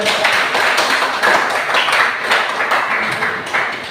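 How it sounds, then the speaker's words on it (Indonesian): Audience applause for a group presentation in a classroom setting, a steady dense patter of many hands clapping throughout, fairly close and loud. "Berikan aplaus dulu."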